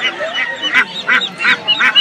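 Domestic ducks at a country market in Haluaghat quack and honk in a close, loud run of about six quick calls, with no talk over them.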